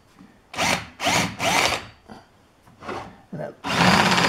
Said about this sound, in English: So we're going to go in and deburr this guy.